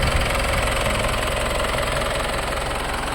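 The engine of a 2017 Mitsubishi Strada A/T GLS pickup idles in a steady, close rumble with an even low throb and no voices.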